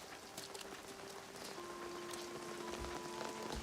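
Steady rain patters on a tin roof, a faint, even hiss of drops that builds slightly. A soft tonal hum sits underneath, and there is no talking.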